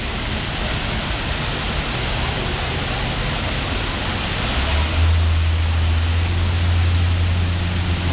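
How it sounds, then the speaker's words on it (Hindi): The waterfall at Khorfakkan, UAE, gives a continuous broad hiss of rushing water that holds steady throughout, with a low rumble joining partway through. "और पानी का शोर सुने आप"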